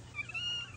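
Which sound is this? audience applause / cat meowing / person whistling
cat meowing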